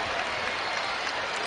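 Crowd noise at a Seton Hall vs St. John's college basketball game, a dense, steady roar of cheering and clapping that fills the arena, loud and continuous throughout.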